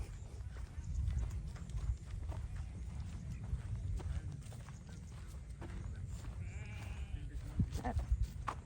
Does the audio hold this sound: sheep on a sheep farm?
yes